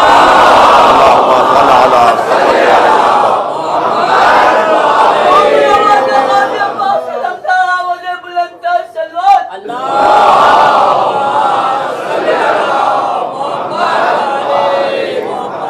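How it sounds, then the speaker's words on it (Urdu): A large crowd loudly recites salawat together in unison, voices swelling and dipping with a brief thinner passage in the middle before the full chorus returns. "تو بلندتر صلوات سیدہ کی ذات"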